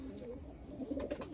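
A Punjabi Malwai pigeon, a male, coos softly and close by with a few low, breathy rolling notes in a quiet setting.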